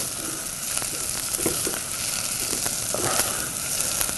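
Onions fry in a thick-bottomed saucepan over a gas flame, giving a continuous dense sizzle with scattered crackles and soft stirring scrapes, close and alone.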